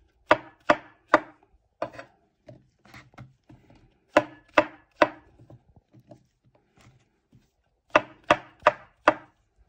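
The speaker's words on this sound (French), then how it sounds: "Là, on coupe les champignons. Vous voyez, on les coupe en petites lamelles." A knife slices mushrooms into thin strips on a cutting board, with quick bursts of three or four sharp close chops separated by softer, scattered taps and pauses.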